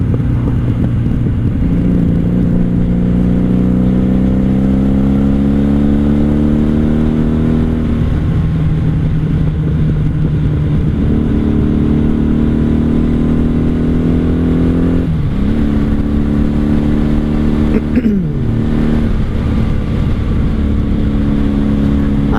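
A 1997 Honda Magna VF750C V4 motorcycle engine runs loud and close, its steady rumble rising in pitch through several smooth revs and then settling back, with no voices.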